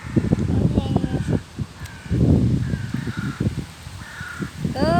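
Crows caw repeatedly in a park while birds gather for bread, several harsh calls scattered among close talking and rustling movement.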